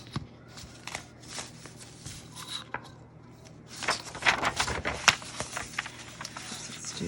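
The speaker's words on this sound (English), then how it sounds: "Tear a little bit on this side." Paper is torn for a journal in a series of crisp, close rips and rustles, sparse at first and then denser and louder, with a brief pause in between.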